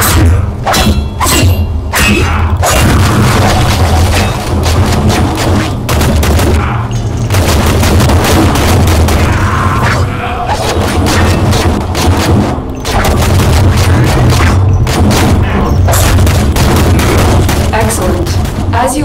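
Rapid bursts of gunfire and booming explosions from the Warframe video game hit loud and close, one after another, with brief gaps between volleys and a steady game ambience underneath.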